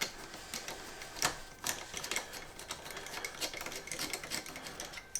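A ratchet with a 5mm Allen key head turns bolts threaded into aluminium on a Honda Monkey 125, giving a run of quiet, rapid clicking bursts with short pauses between them and no talk.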